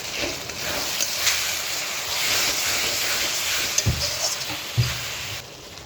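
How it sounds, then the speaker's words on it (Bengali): A ground spice paste of cumin, tomato and salt frying in a pan, heard as a continuous sizzle with occasional stirring scrapes and a few sharp knocks near the end. "এবার আমি পুরো এটাকে কষাবো মশলাটাকে।"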